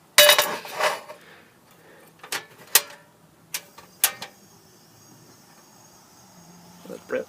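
A skillet is set onto a stovetop with a loud metallic clatter at the start, followed by several sharp, scattered clinks and knocks of cookware against the burner in an otherwise quiet kitchen.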